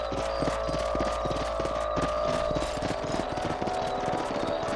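Horse hooves clip-clop in a steady rhythmic trot while riding in the video game Red Dead Redemption, the beats continuous and close over a low, constant hum.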